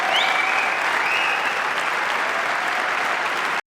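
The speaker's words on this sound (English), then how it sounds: "round of applause for that Dipset movement, man" A crowd breaking into a round of applause, loud, dense clapping sustained for a few seconds before cutting off abruptly.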